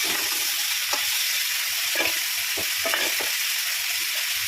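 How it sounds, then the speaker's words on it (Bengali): Crabs fry in hot oil in a home kitchen for a spicy crab curry, a steady loud sizzle and crackle throughout with a few soft stirring scrapes, no voices. "তেলটা গরম হয়ে গেছে আমি কাঁকড়াগুলো ভেজে নিই"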